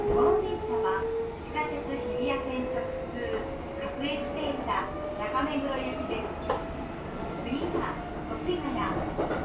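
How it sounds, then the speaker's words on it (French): A Japanese metro train runs slowly through Saitama, rolling with a steady rumble, a rising motor whine and faint rhythmic clatter while people talk over it. "Bon voilà le métro japonais."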